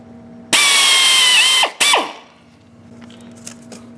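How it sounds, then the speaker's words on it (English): A power drill with a big bit bores into a TH400 Turbo 400 transmission separator plate: a loud, close whine for about a second, a brief pause, then a short second burst that winds down, followed by quiet workshop rattles. "The big drill bit's already chucked up."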